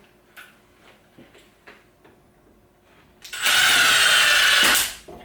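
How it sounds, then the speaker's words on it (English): Power drill driving screws into a kitchen cabinet filler strip: a few light taps and clicks, then one loud, close whirring burst lasting about a second and a half before winding down. "Switch over now and we'll drive a few screws through."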